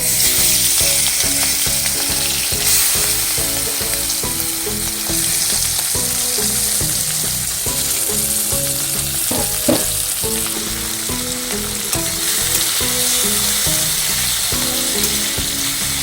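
Prawns frying in very hot oil in a wok, a steady, loud, dense sizzle with crackling pops and occasional stirring, continuous throughout with no talking.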